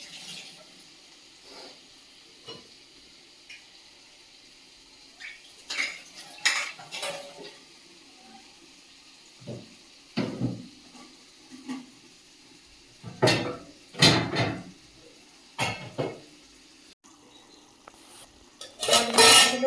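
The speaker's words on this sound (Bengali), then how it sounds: "এর একটা ঢাকনা আছে ওটা দিয়ে ঢাকতে হবে" Metal cookware clattering in a home kitchen: scattered clinks and knocks of a lid and utensils against a cooking pot, with quiet gaps between bursts and a sharper cluster of clanks toward the end.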